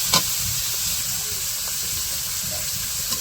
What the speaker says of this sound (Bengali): পেঁয়াজগুলো তো হালকা ভাজে নিচ্ছে